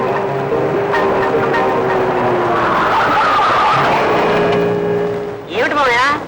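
A car skids hard in a Telugu film scene, its tires screeching loudly and steadily for several seconds with voices mixed in, then ending in a rising, wavering squeal.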